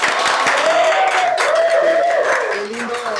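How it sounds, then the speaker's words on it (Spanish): A studio audience applauds after a guest celebrating Afro-Peruvian culture is introduced, a short spell of crowd clapping that is partly buried under a host's talking. "Un aplauso, por favor"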